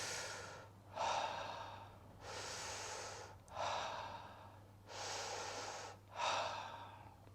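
Continuous rhythmic conscious connected breathwork, inhales and exhales flowing into each other without pauses, audible and close, repeated over several cycles with no other sounds.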